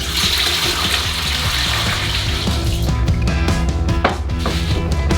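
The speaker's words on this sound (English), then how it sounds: "For the dough, pour 3 liters of 330 milliliters of water." Water pours steadily into a container for bread dough, a loud continuous splashing rush that settles into a fuller, gurgling fill toward the end.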